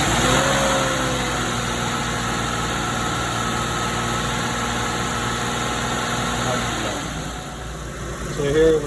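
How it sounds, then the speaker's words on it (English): A 2007 Buick Lucerne engine runs at a steady hum with a voice talking over it, then its pitch shifts and swells near the end as the RPM is raised. "we're going to increase RPM"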